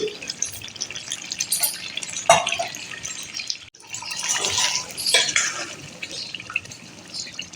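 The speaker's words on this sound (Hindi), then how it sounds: "ये 1 कटोरी पानी है, मैं इसमें ये डालती हूँ।" A bowl of water poured into a pot of home-cooked chicken curry with a thin, brothy gravy, giving a steady splashing, gurgling stream close by that swells in two pours with a brief gap between them.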